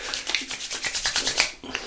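A Gillette Slim Twist safety razor scraping across lathered skin during a shave with Palmolive shaving soap, giving close, rhythmic rasping strokes in quick succession, each a short bright scrape, with no talk.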